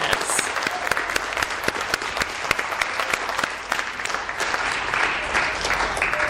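A high school audience in an auditorium applauds the performers at a Poetry Out Loud recitation contest, with dense, sustained clapping that runs steadily for the whole stretch.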